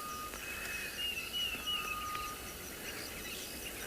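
Diederik cuckoo calling on an afternoon safari in South Africa, a thin, high whistled call rising and falling a few times over a steady background of bush ambience and insects.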